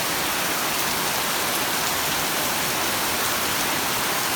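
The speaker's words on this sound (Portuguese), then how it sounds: "Mas essa que tá caindo há pouco tempo, a terra não consegue nem absorver mais a quantidade de chuva." Heavy thunderstorm rain pours down in a dense, steady hiss, loud and unbroken throughout, with no voices.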